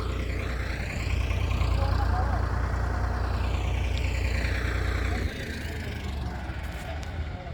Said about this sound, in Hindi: देखिए साइड ब्रेक मार के ट्रैक्टर घुमा दिया बड़े आराम से।